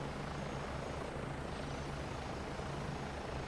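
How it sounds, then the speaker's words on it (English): Mil Mi-2 helicopter engine in a flight simulator game, a steady, dense rotor and turbine drone with a low pulsing throb that holds evenly throughout, with no talk. "I've got that weird MI2 sound again."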